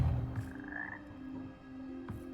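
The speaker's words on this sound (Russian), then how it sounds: "я знаю эту жабу. Она сейчас меня съест и куда-то выплюнет" Deep, close croaks from a toad in the video game Hogwarts Legacy sound alone, with a low droning ambience between the calls.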